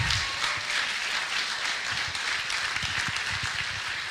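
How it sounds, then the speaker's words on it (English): A crowd at a story slam celebration gives a steady round of applause, a dense wash of clapping at even loudness throughout, with a few nearer individual claps standing out. "Yes, give a round of applause for all those people."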